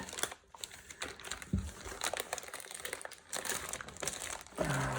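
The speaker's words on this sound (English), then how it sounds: "the bend it a little bit trick to get it out of the plastic bag" A plastic bag crinkles and rustles up close as a boxed wargame's contents are pulled out of it, irregular crackling bursts at low level with a short gap midway.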